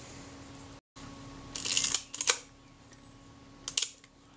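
A freshly serviced Kodak Retinette type 022 camera shutter fires in two or three separate crisp mechanical clicks with short rattling tails, close and distinct against a quiet room hum.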